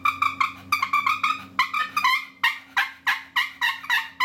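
A 7-in-1 push-button turkey call gives a run of sharp, close yelps and clucks, about a dozen evenly paced strokes in quick succession, with no voice over them.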